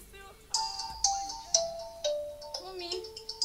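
An electronic phone ringtone sounds indoors as a bright, repeating chime that restarts about every half second, with each burst clear and moderately loud. No one speaks over it.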